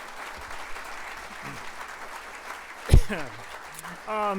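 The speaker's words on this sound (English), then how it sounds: "How about one more round of applause to the Virginia Golf Hall of Fame's class of 2024, Jane Mack, Tom Strange, J.P. Leigh, and Rob" An audience at the 2024 Virginia Golf Hall of Fame induction ceremony claps in soft, scattered applause while a voice speaks over it, with a brief loud thump partway through.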